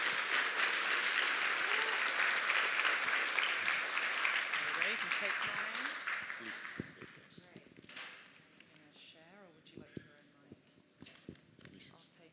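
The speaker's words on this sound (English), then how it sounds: "If you can give them a round of applause." Dense, loud audience applause during the closing remarks of a conference fills the first six seconds, then thins and fades into scattered claps, shuffling and murmuring voices in the room.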